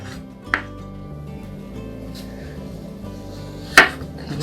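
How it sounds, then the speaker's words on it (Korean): A knife cuts a cucumber into quarters for cucumber kimchi, giving two sharp chops on a board about three seconds apart, with quiet background hum in between. "오이를 끝부분을 잘라주시고 이렇게 4등분 잘라주세요."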